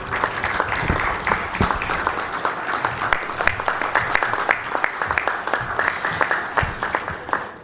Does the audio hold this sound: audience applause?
yes